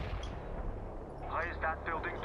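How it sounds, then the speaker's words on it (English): Artillery shells landing in the World in Conflict: Soviet Assault strategy game, a rumbling cluster of distant booms and crackling impacts rolling through a short burst. "Yeah, there come their shells."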